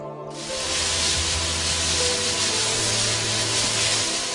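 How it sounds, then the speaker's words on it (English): A steady, loud hiss of pesticide spraying over grape vineyards in Nasik fills the air, broad and continuous with a low mechanical hum underneath. "It is pesticides being sprayed on grape vineyards in Nasik."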